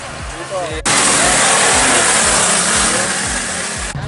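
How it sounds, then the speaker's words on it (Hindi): A snow bike revving loudly in a snowy valley at Solang Valley, Manali; a burst of engine noise suddenly fills the scene and holds steadily for several seconds before cutting off, over a low rhythmic thumping. "ये मोटर बाइक जा रही है, स्नो बाइक बोलते हैं इसको।"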